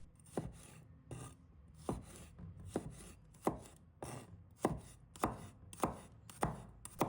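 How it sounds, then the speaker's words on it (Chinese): Knife slicing a handful of garlic cloves on a cutting board, with sharp, regular chopping strikes repeating about every half second, close and fairly loud, no talk. "再准备一把大蒜，把它切成片。"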